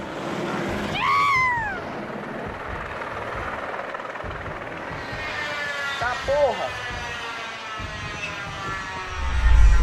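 A helicopter's rotor thrums steadily in the background during an accident in Brasilia, Brazil, while voices talk over it, with a few sharp whistling tones rising and falling.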